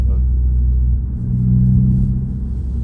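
A low, steady rumble of an Audi A8 driving, with a smooth engine drone and road noise swelling slightly midway, heard from close by with no talk.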